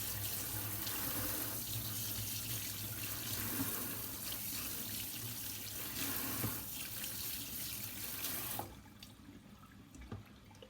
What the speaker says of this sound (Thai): ไข่ที่ได้เราก็มาล้างน้ำอีกสักรอบนะคะ